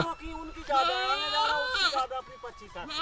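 Several goats bleat close by in a Narmada riverside setting, their wavering, nasal cries overlapping one another in a continuous chorus with some background voices.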